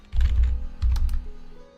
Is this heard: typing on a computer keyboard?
yes